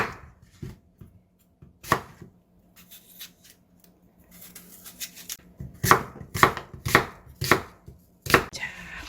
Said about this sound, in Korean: 양파도 한개 이렇게 썰어서 넣어주고